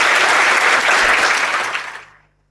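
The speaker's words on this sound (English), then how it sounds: "huge round of applause?" An audience at an HR leadership summit gives a dense round of applause, loud and steady, before it tapers off and stops.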